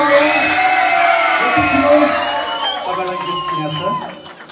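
A loud audience at a live music program cheers, whoops and shouts together, the mass of excited voices swelling and falling under brief spoken words.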